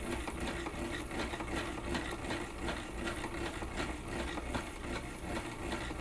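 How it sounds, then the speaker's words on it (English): A weaving bobbin being wound, heard as a steady, continuous whirring hum with a faint rattly texture that stays at an even level throughout, close by. "I'm now almost finished winding my bobbin"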